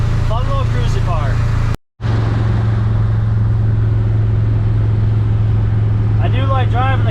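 A 1972 Oldsmobile Cutlass cruiser engine drones steadily from inside the car while driving, a loud low hum that cuts out briefly near the start and then resumes evenly, with faint chirping noises at the start and end.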